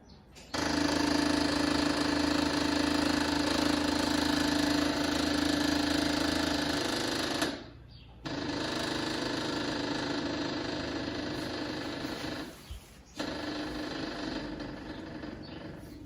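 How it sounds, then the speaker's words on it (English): Electric fuel pump running to pressurize the carburetors on a 1972 VW Westfalia, a steady loud whirring buzz with a low hum that cuts out briefly twice, then resumes. "first step is going to be just to turn the ignition to get the pump, which we know works, to pressurize the carburetors"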